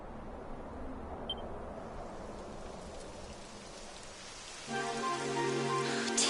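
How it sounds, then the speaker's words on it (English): Rain begins in the video game Dragon Quest XI as a soft, even hiss of falling drops. A brighter, louder tonal layer joins for the last couple of seconds. "It would have to go and start raining, wouldn't it?"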